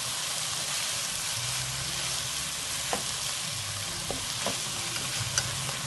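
Saltfish (soaked codfish) sizzles steadily in a hot pan for Jamaican seasoned rice, a constant bright frying hiss with a few soft clicks of stirring and no talk.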